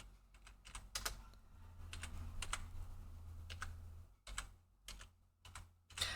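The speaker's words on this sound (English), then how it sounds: "I really need to get a setup where I can type two-handed very easily, but the keyboard is right in front of me." Someone types on a computer keyboard, producing quiet bursts of clicking keystrokes in irregular clusters with short pauses, over a low background hum.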